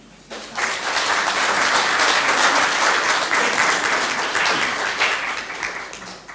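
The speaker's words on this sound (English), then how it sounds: "So a big round of applause to all the successes of the Deeplish Community Centre" A crowd at a community centre's 35th anniversary celebration breaks into applause that swells quickly, holds full and steady for several seconds, then begins to thin toward the end.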